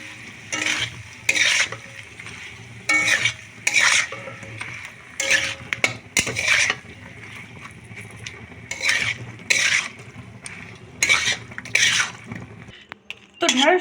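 Fried okra is stirred into a cooked spice masala in a pan, with repeated scraping bursts of a spatula over a low sizzle and brief pauses.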